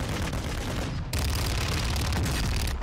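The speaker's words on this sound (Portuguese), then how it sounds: "deu pra escutar os tiros" Dense, rapid gunfire from a Warzone 2 firefight, with sustained bursts of automatic shots that crackle loud and close for the whole stretch and briefly thin out near the middle and the end.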